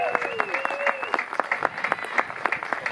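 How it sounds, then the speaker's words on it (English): Audience applause at an outdoor concert in a listening room setting: dense, steady clapping from a moderate crowd, close and lively, with a whistle or musical tone gliding through the start. "why don't we give a big round of applause to Ed and Lois for hosting us here today"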